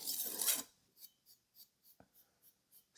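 Knife blade stroked on a Takayuki Shibata finishing whetstone during sharpening: a brief rough scrape, then about eight light, evenly spaced soft swishes, quiet and close.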